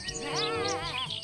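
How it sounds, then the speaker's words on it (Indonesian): A single short sheep bleat, wavering and quavering for about a second on its own. "Keluarlah seekor domba."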